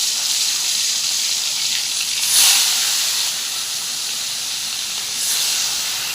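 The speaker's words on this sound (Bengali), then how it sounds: "কড়াই গরম হয়ে গেছে, এখন আমি এক এক করে মাছগুলো ভেজে নেব।" Bhola fish frying in hot oil in a wok, a steady close sizzling hiss with brief louder spurts of spitting, no talk.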